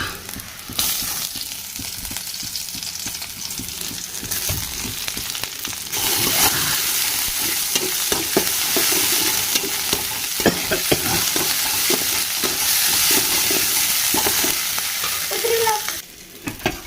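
Onion and garlic frying in oil in a pan: a loud, steady sizzle with stirring scrapes and clatter throughout, which breaks off briefly near the end.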